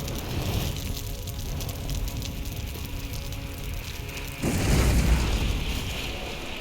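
A siege weapon is destroyed in the Lord of the Rings Online game, a steady rumbling crackle that swells into a louder booming burst near the end, with no voices.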